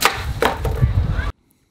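A Blackview BV8000 Pro rugged smartphone strikes a hard surface, giving a loud, brief clattering knock with a couple of quick bounces before sudden silence.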